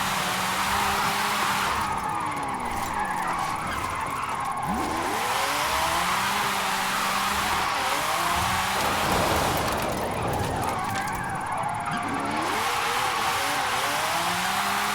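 A 2020 Toyota GR Supra with an all-wheel-drive drift tune drifts in Forza Horizon 5's Carrasca drift zone, its engine revving and swooping up and down with sustained tire squeal as it slides through turns, loud and continuous.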